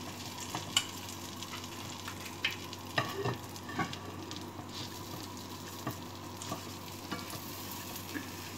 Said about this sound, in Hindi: इसके ऊपर थोड़ा सा बटर हम लगा देंगे जिससे ये दोनों तरफ से अच्छे से सिक जाए।